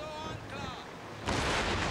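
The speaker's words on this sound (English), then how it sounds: "we'll just let our cannon do our talking for us" A sudden heavy roar of naval cannon fire in the video game Total War: Napoleon, a broadside from Royal Navy ships against a Spanish vessel, bursting in loud after a brief tonal game sound and a voice.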